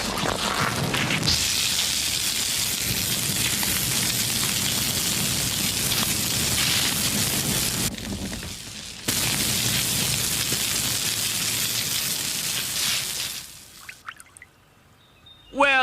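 A fire hose sprays water in a steady, loud rushing hiss that drops out briefly near the middle, then resumes before cutting off at the end, in a 1987 Fireman Sam animated episode.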